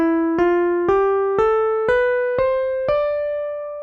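A guitar plays a mode of the major scale, starting on Re and climbing note by note to the Re an octave above, with seven or eight evenly spaced plucked notes ringing clearly and alone.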